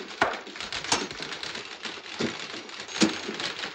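Manual typewriter keys struck in an irregular run of sharp clacks, a few louder hits standing out, fairly close with no talking.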